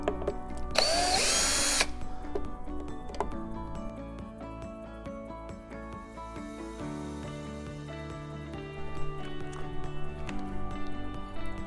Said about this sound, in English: Most of the time is taken to remove the screws. So I'm going to go ahead and do that.